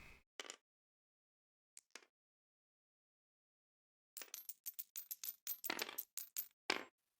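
Dice clatter across a table as players roll for initiative in a tabletop role-playing game: a couple of brief early rattles, then a quick burst of clicking tumbles near the end, close and fairly quiet.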